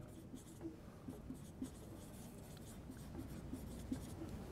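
A pen scratches on paper as a page is marked up, with soft, close strokes coming in a steady, irregular series over low room noise.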